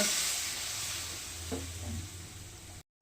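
Hot water is poured into spiced masala with tomato frying in a pan, a loud steady sizzle that flares with a burst of bubbling midway before cutting off abruptly.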